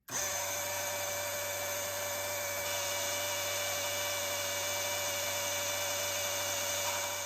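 A power drill with a bit mounted in an electromechanical setup runs continuously at a steady high whine, loud and close, with no speech over it.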